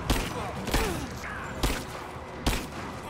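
Gunfire in the video game Rise of the Tomb Raider: four sharp, loud shots spaced roughly a second apart over continuous background game noise.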